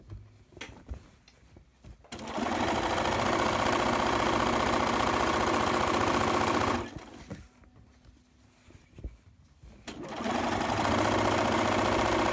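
A sewing machine stitches the side seams of a pillowcase in two steady whirring bursts of several seconds each, separated by quiet pauses with small handling clicks.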